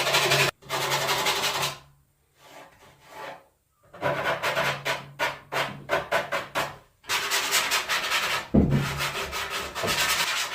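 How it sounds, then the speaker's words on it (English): Hand sanding with sandpaper on the flashing of a fiberglass deer head form, a series of raspy back-and-forth strokes in short bursts separated by pauses, close and fairly loud. "you can use like a little sanding block or something, piece of sandpaper, or even your Dremel tool"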